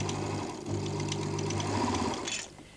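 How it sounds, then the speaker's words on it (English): A sewing machine runs a zigzag stitch around a lace design, a close, steady rapid whirring and clatter that holds for a couple of seconds before stopping. "with the zigzag on my sewing machine, I start following around the design"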